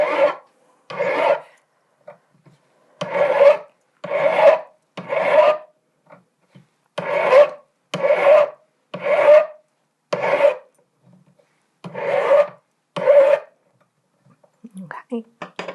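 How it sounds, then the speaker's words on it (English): A hand file rasps across a domed metal locket as it is turned, a series of short, close strokes in an uneven rhythm with brief pauses between them, no talk over it. "keep turning that to make sure we're not filing any flat spots"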